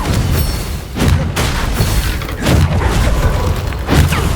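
Confringo fire spells from Hogwarts Legacy on PS5 burst as a series of three heavy, booming blasts spaced about a second and a half apart over a steady rumbling game background.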